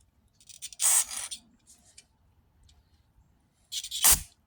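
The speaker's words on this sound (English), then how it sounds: "Spray it through, make sure it goes all the way." Water is forced through a small pressure washer part in two sharp hissing spray bursts, one near the start and one at the end, loud and close with quiet gaps between.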